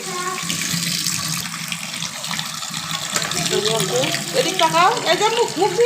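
Water splashes and trickles as an adult washes the faces of two small children, the older one five years old, in a steady running wash, with talking and young voices rising over it toward the end.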